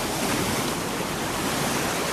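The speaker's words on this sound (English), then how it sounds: "the sounds of the waves breaking while you're having dinner" Waves breaking on Maxwell Beach, Barbados, at dinnertime form a steady, dense wash of surf that runs unbroken and fairly loud with no voices.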